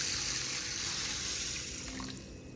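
Plain water is poured into a bowl to soak half a bowl of moong beans, a steady close splashing stream that fades toward the end, with no talk.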